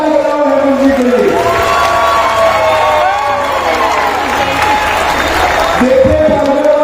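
Loud, sustained clapping and cheering from a big crowd at a political rally in Vasai, with whoops and shouted voices riding over a continuous wash of applause.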